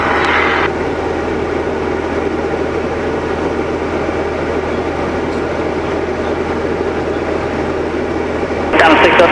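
Diamond DA40 single-engine airplane in flight, its engine producing a steady, loud broadband drone with cockpit radio chatter over it.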